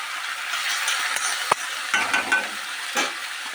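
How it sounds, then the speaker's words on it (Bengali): Radish greens frying in a pan, stirred and tossed with a spatula, giving a steady crackling sizzle broken by a sharp tap and brief scraping stirs, near and without voices. "এভাবে একটু নেড়ে ছেড়ে আমি এবার ঢাকা দিয়ে দেবো"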